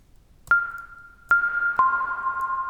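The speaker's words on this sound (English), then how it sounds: "I'm going to be using a little melodic blip noise that I've made" A melodic blip synth patch from Ableton Operator with reverb: three short, bright tonal pings with sharp clicky attacks, each leaving a long, smooth reverberant tail that overlaps the next, heard alone.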